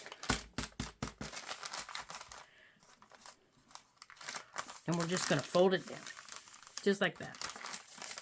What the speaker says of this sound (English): And we're just going to fold it down.